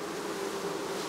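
Honey bees buzzing steadily in a continuous close drone at a hive during varroa mite testing, with no talk.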